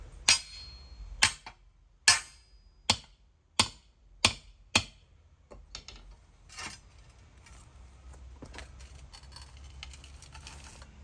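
Sharp metallic hammer strikes on a pry bar driven into wood, about seven evenly spaced blows, followed by scraping and lighter knocks.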